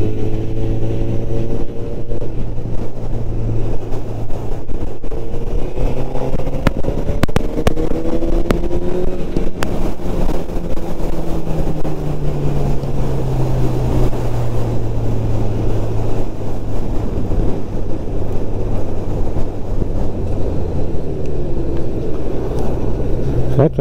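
A 2022 Honda CB 1000 R motorcycle fitted with an IX Race silencer rides along, its engine droning loudly and steadily, pitch sliding up and down with gear changes and throttle.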